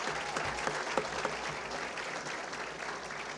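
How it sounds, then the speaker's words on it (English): Audience applauding in a civic meeting room for former local officials, steady, moderately quiet clapping from a crowd throughout, with a few sharper individual claps standing out. "Join me in applauding and thanking them for being here with us today."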